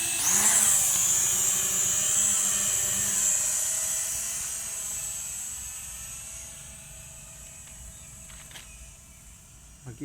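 Toys Sky-S167GPS camera drone lifting off, its rotors giving a loud, high, steady buzzing whine close by that slowly fades as it climbs away.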